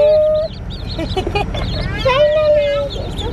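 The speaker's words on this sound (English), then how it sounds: "We ordered Indian runner ducks way back in the winter" Indian runner ducks or ducklings call with short honking, quacky cries at close range, overlapping and steady across the moment while people talk nearby.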